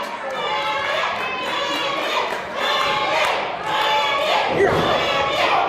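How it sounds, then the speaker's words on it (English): A wrestling crowd at an independent show cheers and chants loudly and steadily in waves, with an announcer talking over the noise. "The crowd trying to cheer Bandit on."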